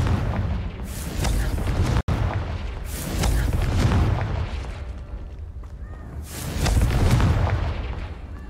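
Confringo spell blasts in the video game Hogwarts Legacy erupt as loud, deep booming explosions, three big bursts with rolling rumbling tails, one cut by a brief dropout.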